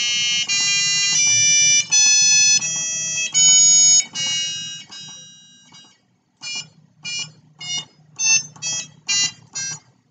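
Electronic buzzer on a programmable learning board sounds a run of beeps whose pitch and length are set by sliders, first longer sustained tones, then a short pause, then quicker clipped beeps in an uneven rhythm.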